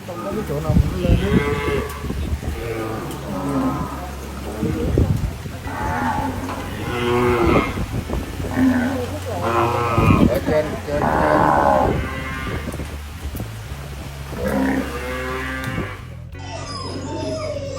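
Cattle stranded in deep flood water in Vietnam give repeated loud, drawn-out moos, several overlapping calls from a herd close by, continuing for most of the stretch before cutting off abruptly near the end.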